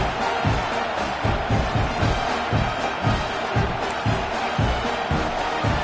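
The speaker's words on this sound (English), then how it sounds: "this crowd is buzzing after that last score" A football stadium crowd buzzes after a score, a dense, steady roar of many voices with rhythmic low swells, loud and continuous throughout with no single voice standing out.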